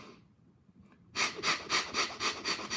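Controlled breathing exercise: after a quiet start, forceful rhythmic breaths sound close and loud, pulsing about four times a second in an even pattern.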